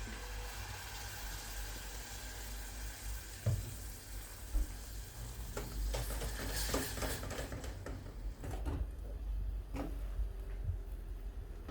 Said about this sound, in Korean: 이제 화이트 와인을 넣고 잘 졸여줍니다